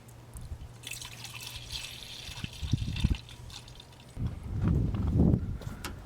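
Coolant is poured into the reservoir of a 1996 Ford F-250 7.3L Powerstroke diesel, giving quiet splashing and glugging liquid in two bursts with a faint drip between, close by.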